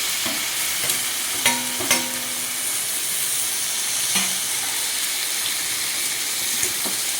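Four tomatoes frying in a pan with chili powder give a steady close sizzle and hiss, with a few light scrapes and taps of a stirring spoon, and no voices.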